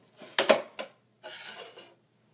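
A blade is swapped on a Paderno spiral vegetable slicer, heard as two short bursts of close clicking and clattering plastic and metal separated by a brief silence.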